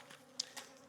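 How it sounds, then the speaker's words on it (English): Honeybees buzz around an apiary in the southeastern United States in winter, a couple of brief, faint passes of wing hum near the listener over a quiet background. "I have bees flying around me"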